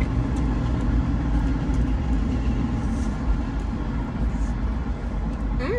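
A train passes close to a parked car, a steady, loud, broad rumble that fills the whole stretch without a break.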